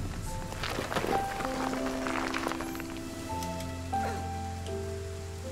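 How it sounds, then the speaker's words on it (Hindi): Steady rain falls in the Rime video game, a continuous hiss of drops on surfaces blended with tonal game music, with a few louder splashes and no voices. "बारिश का सीजन कितना सही लग रहा है इसके अंदर, मजेदार एकदम।"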